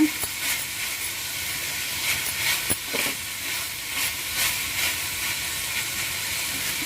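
Brinjal cooks under a lid in a pan over medium heat with salt and a spoon of oil, giving a continuous even hiss of steam and faint sizzle with small irregular ticks throughout.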